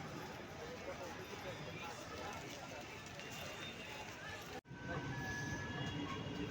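The Jabalpur Express pulls away from Surat station at night, its steady rumble and rattle of wheels on track filling the clip from start to end, with a brief dropout before the rolling noise resumes slightly louder.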